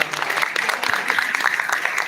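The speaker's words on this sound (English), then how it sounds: "Please give her a big hand of applause." Audience applause at an international conference, a steady dense clatter of many hands clapping throughout, fairly loud and close, with no voices over it.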